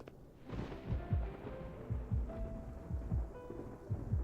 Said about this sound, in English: Just as I reach the terrace, thunder roars from outside.